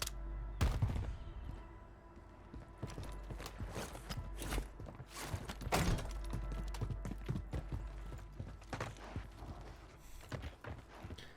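Gunfire in the Warzone 3 video game during a trios or quads match: scattered sharp shots and bursts crack in irregular clusters over a continuous low rumble, with no talking.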